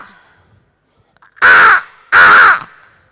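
A performer at a comedy show mimics a crow with two loud, harsh, close caws in quick succession, then silence.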